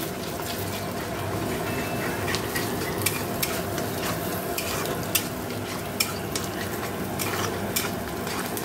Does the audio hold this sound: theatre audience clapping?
no